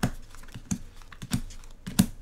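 Playing cards for the Twilight Imperium 4th Edition board game are dealt onto a table, making a handful of light, close slaps and flicks at irregular intervals with no talking.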